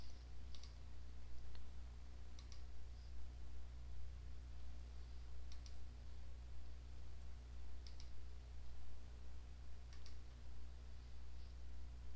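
A computer mouse clicks in sparse, sharp pairs spaced a couple of seconds apart, close and quiet against a steady low hum, with no talking.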